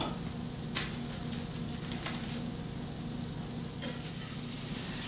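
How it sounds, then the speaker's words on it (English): Salisbury steak patties sizzle in a preheated skillet, a steady, close frying hiss with a few sharp pops and crackles scattered through it. No one talks. "You're going to place it in a preheated skillet."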